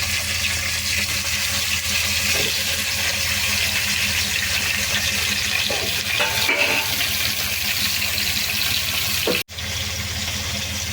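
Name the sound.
vegetable pieces added to frying tempering and stirred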